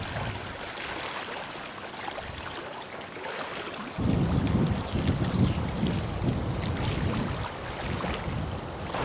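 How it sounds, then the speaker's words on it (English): Strong wind gusts buffet the microphone beside a lake in the Eastern Sierra, a low steady rush that surges sharply louder partway through and stays rough and blustery. "there will be these huge, powerful gusts of wind and then it dies down to nothing"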